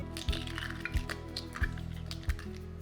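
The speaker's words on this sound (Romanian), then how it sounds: "Într-un bol, spargem ouăle" Eggs cracked into a bowl for gluten-free brownie batter, with four sharp cracks at a steady interval over a faint background hum, no talk.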